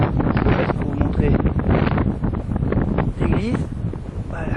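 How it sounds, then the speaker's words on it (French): Strong wind buffeting a microphone outdoors on a summer trip through villages near Mont Lozère in France, a loud continuous rumble with gusty roughness throughout, and indistinct voices faintly mixed in. "il fait un peu trop de vent"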